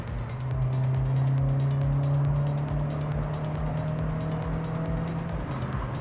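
Steady engine hum from a car with a 25-year-old engine cruising after a power-restoring repair, a constant droning tone with road noise held at even loudness throughout, no talking.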